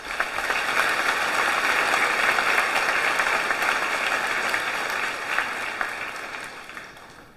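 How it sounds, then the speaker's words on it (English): Audience at a 2023 high school graduation ceremony applauds steadily, a dense sustained wash of clapping that holds at an even level throughout, with no talk over it. "join us in applauding these professionals whose support and dedication has helped shape each member of"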